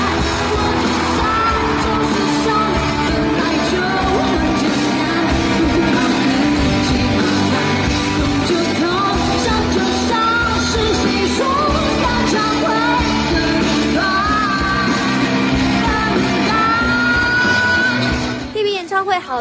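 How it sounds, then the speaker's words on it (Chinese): Concert fans scream and cheer at a stadium concert, a loud sustained crowd roar with yells and whoops rising over music throughout. "他一开口还是让歌迷尖叫连连。"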